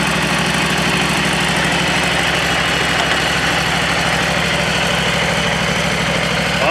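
An engine idles steadily after its spring startup with the choke fully off, giving a loud, close, continuous rumble with an even throbbing pulse and no pauses.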